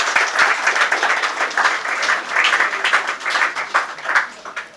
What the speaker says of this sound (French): Est-ce que, sous vos applaudissements, nous pouvons recevoir le docteur Sédé Yamba